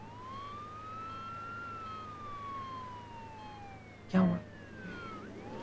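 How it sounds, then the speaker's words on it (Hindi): An ambulance siren sweeps slowly up and down in a steady wail, with a brief loud knock partway through and a short spoken question over it. "एम्बुलेंस में सायरन होती है, सायरन के बजने से रास्ता मिलता है।"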